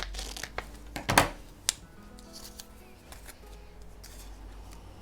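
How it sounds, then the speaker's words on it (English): Scissors snipping through layered paper for a file-tab craft project, a few quick close cuts and crinkles at the start, then quiet paper handling. "so I'll cut some of these"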